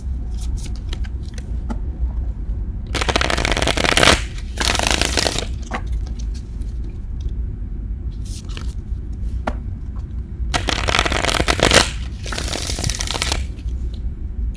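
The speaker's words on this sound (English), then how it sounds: "Go ahead and do a pre-shuffle for you." Tarot cards are riffled and shuffled in several quick bursts, close and crisp, separated by quieter pauses with faint handling sounds.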